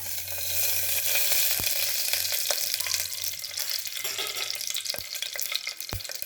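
Masala spices sizzle and fry in hot oil for a chickpea and potato kurma, a steady close crackling hiss with a few sharp knocks of a utensil against the pan.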